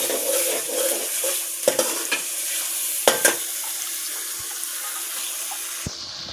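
Chicken fries in a pan with tomatoes and spices while being stirred, giving a steady hiss with scattered scrapes and clinks of the spoon against the pan.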